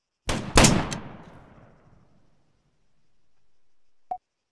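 Two sniper rifles in the video game Arma 3 fire almost together, close and loud, with a long, fading echo afterward and one small click near the end.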